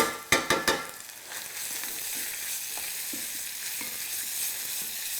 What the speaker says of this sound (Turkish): Altını açıyoruz ve hepsini kızartıyoruz